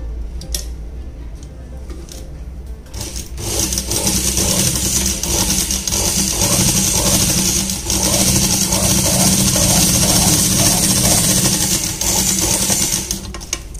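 Sewing machine stitching palazzo fabric. A soft, steady motor hum starts after a few seconds and carries a fast, even rhythmic whirr that runs on continuously and fairly close.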